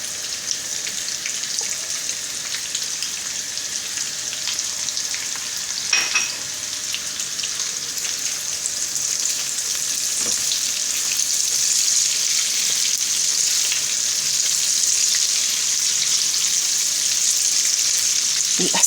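Potatoes sizzle steadily in a frying pan, a bright continuous crackle that swells slightly midway, with occasional scraping stirs from a silicone spoon.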